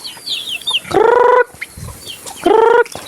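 Two loud, drawn-out squawking calls from nearby chickens, with softer clucks, chirps and faint bird sounds in between.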